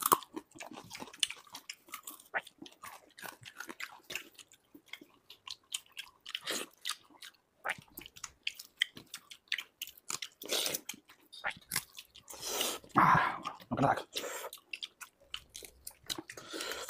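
Close, wet chewing and crunching of pakhala (fermented rice) with dried fish chutney, with irregular bites and smacks running throughout and no talk.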